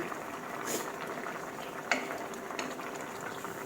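Canned fish soup simmers in a pot, a soft, steady bubbling and gurgling close by with a few faint clinks, fairly quiet throughout.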